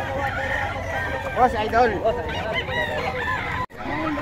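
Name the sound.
stag rooster crowing at a market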